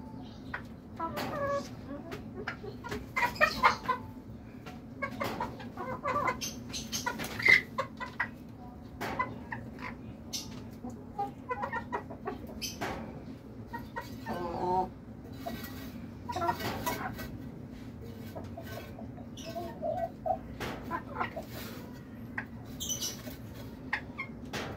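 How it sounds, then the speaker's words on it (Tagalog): Domestic chickens clucking on and off at a backyard pigeon coop, with intermittent mid-distance calls over a steady low background hum. "Mga manok po guys, so mga istorbo."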